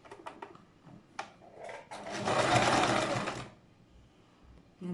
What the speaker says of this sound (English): You just sew it around.